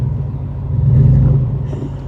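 A Cadillac limousine left abandoned for ten years runs after being put into gear, its engine giving a deep, rough rumble that swells briefly, close and loud.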